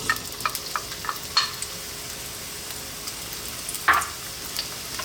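Onion dropped into olive oil in a pan gives a soft, steady sizzle, with a few light clicks and one louder clatter near the end.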